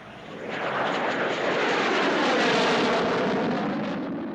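Military jet aircraft flying during the Korean War era, a loud, steady broadband engine roar that swells over the first second and holds near and continuous throughout, with no voices.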